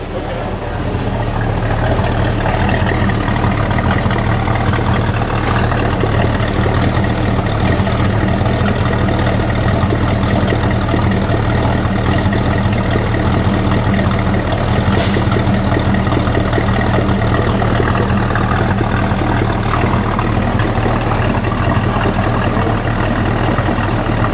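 A 1970 Ford Torino GT convertible with a 429 Super Cobra Jet V8 idles loudly and close, a steady deep rumbling drone that holds throughout with no clear revving.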